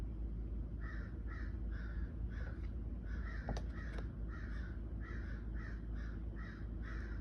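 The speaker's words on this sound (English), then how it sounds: "the sound of their crowing is interfering with my signal" Crows cawing outside a window, a steady run of repeated harsh caws at a moderate distance over a low background rumble, with no voices.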